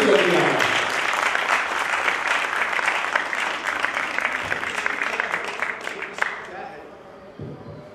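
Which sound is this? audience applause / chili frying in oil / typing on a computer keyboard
audience applause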